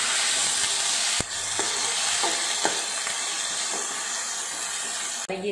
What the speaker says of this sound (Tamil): பச்சை மிளகாய், ஆனியன் வதங்கினதையும் வாழைப்பூ போட்டு வதக்கணும்.